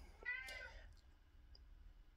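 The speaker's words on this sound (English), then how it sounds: "one of my cats is being noisy" A house cat meows indoors, one short, fairly loud cry near the start followed by faint clicks and quiet room noise.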